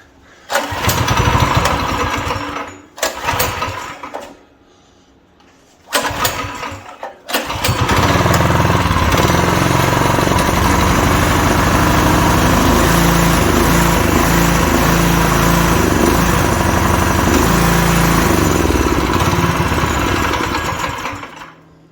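A Predator 212 small engine swapped onto a full-suspension lawn mower, cranked through two short sputtering start attempts before catching and running loud and rough at close range, steady throughout without talking.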